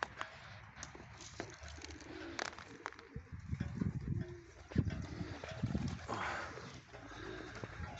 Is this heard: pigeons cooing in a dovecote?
yes